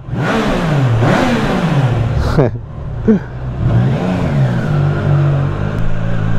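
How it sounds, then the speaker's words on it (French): The three-cylinder engine of a Triumph Tiger Sport 660 motorcycle, in its full 81-horsepower version, revs loudly up and down in repeated rising and falling sweeps while someone talks over it. "on y réécoute le 3 cylindres."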